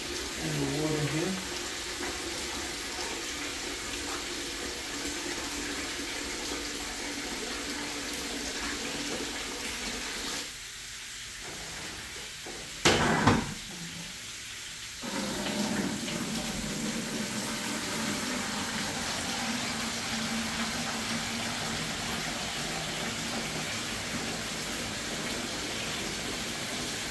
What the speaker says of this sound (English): Draining some of the fish tank water